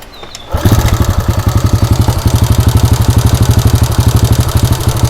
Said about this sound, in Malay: Kita dengar bunyi enjin motor ni, time dah pakai exhaust standard.